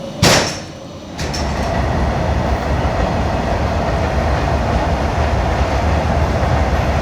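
A train locomotive reversing at a station on a Vistadome route in Jharkhand, starting with a sharp metallic clank and then settling into a loud, continuous rumble and rolling rail noise.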